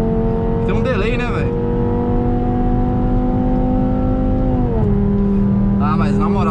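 Volkswagen Jetta with a five-cylinder engine and straight-pipe exhaust, held at a loud steady rev that drops slightly in pitch, with people talking over it near the start and again at the end.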